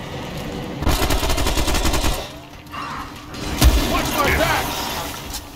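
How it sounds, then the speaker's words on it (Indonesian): Bursts of rapid gunfire from the video game Remnant: From the Ashes, one sustained volley followed by a pause and a second burst with a sharp heavy shot, mixed with game sounds and a voice talking. "Siapa yang nembak anjir?"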